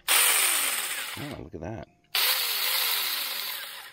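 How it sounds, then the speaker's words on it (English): An Avhrit 6 inch battery mini chainsaw runs at a loud, steady buzz, stops briefly and starts again, with a voice cutting in during the short pause. "It's a chainsaw."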